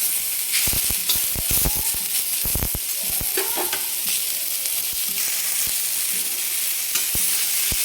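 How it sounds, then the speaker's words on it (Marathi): Tomatoes sautéing in a hot pan give a loud, continuous sizzle, with a quick run of stirring clatters early on and a few later scrapes and taps of the spoon. "तर हा टोमॅटो टाकते. याला पण आपल्याला छान परतून घ्यायचं 2 मिनिट."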